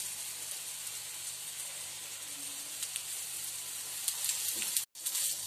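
Aloo tikki potato patties frying on a tawa over a low flame give a steady, even sizzle throughout, close and moderately quiet, with a brief dropout near the end.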